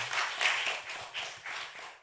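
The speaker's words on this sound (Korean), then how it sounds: "하나님께 영광의 박수를 드리겠습니다." A church congregation at a Sunday service claps in praise to God. The clapping is soft and somewhat distant, rising and falling in uneven waves, with no speech over it.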